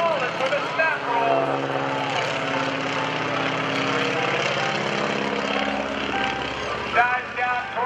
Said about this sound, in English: He's barely got enough flying speed. He's got to stall it with a snap roll.